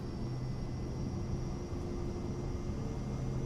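Airplane engines in Microsoft Flight Simulator 2024 at takeoff power, a steady even roar with a constant whine on top, holding level throughout with no voices.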